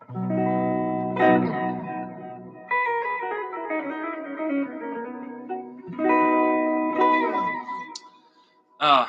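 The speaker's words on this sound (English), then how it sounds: "Is that too much modulation? I like a lot of modulation." An electric guitar plays sustained chords and melodic phrases with a wavering modulation effect and a reverberant tail, pausing between phrases.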